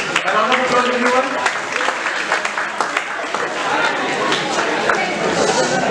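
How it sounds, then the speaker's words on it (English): An audience at a panel discussion on criminal lawyers applauds the panelists with loud, dense clapping, with some voices and chatter mixed in. "A round of applause everyone."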